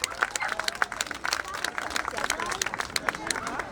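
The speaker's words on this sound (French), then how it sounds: "On peut l'applaudir chaleureusement." An audience at a cultural event in Montreal applauds warmly for a slam poet, a dense patter of hand claps mixed with crowd murmur and a voice speaking over it.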